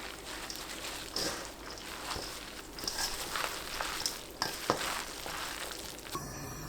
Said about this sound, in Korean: 식용유 두른팬을 예열하고 중불로 낮춘 뒤 반죽 올립니다